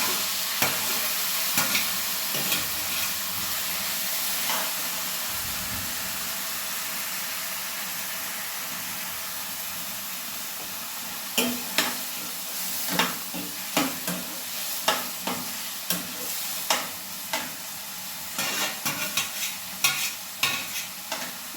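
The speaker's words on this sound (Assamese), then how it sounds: "এইখিনি এতিয়া ইয়াতে দি অলপ দেৰি ভাজিম।" Grated carrot for carrot kheer fries in a pan with a continuous loud sizzle and hiss, joined by repeated scraping stirs that come in quick bursts later on.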